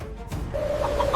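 Chickens in a village square cluck briefly and sharply, a short close burst of fowl calls over a low background hum.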